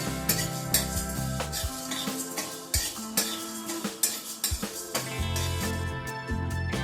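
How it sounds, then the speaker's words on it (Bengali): Whole spices (cloves, small cardamom pods, a cinnamon stick and a dried red chilli) frying in a pan while a spoon stirs and scrapes steadily, with repeated metallic clinks over a continuous low hum, close and fairly loud. "হালকা করে মশলাটাকে একটু ভেজে নেব।"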